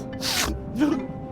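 A dwarf character in the point-and-click adventure game The Night of the Rabbit gives a single breathy sneeze: a sharp intake, then an explosive burst, close and fairly loud.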